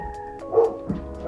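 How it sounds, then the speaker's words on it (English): Several pet dogs bark excitedly indoors at a car passing the house, a few sharp barks and yips spaced out across the moment, moderately close. "My dogs are going nuts."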